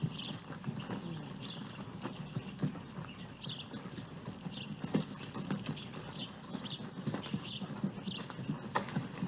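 Several horses on a ranch walk past on a group ride, their hooves clip-clopping in a loose, uneven rhythm at moderate distance, with faint ambient noise around them.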